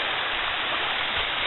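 Creek water cascades around a bend into a deep pool on the Piney River trail near Spring City, Tennessee, a steady, dense rush of falling water with no breaks.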